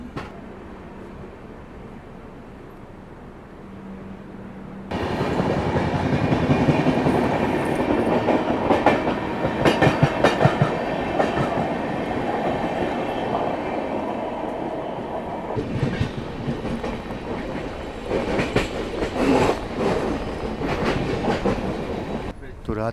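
The Howrah Rajdhani Express runs on rails at night in thick fog, heard from inside the coach. A quieter low rumble opens, then a loud steady clatter of wheels and rattling carriage noise takes over and continues to the end.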